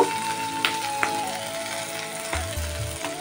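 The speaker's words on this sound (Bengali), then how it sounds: "আমার কিন্তু ভাজা ভাজা হয়ে গেছে পেঁয়াজটা।" Onion frying in a pan makes a continuous close sizzle, broken by a few sharp clicks from stirring and a faint low hum in the background, without any talking.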